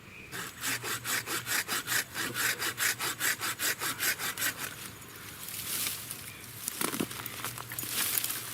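An Olmsted Forge 7 inch hand saw cuts through wood in a steady series of about fifteen close, even back-and-forth strokes. Then it stops, and softer rubbing and handling noises follow.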